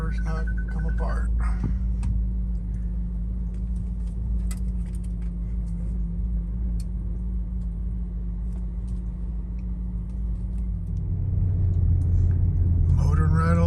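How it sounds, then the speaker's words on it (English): A 2007-2013 BMW X5 4.8i E70 with the N62 engine drives straight along a road after inner and outer tie rod replacement, a steady low engine and road rumble from inside the cabin under a quiet voice. "Motoring right along, going straight, steering wheel straight."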